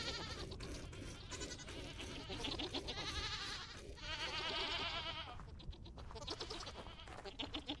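Goats bleat repeatedly in the Vintage Story survival video game during milking, wavering nasal cries that come in overlapping bursts, loud and close with only brief pauses between calls.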